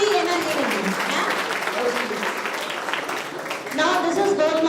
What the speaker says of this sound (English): round of applause for the energy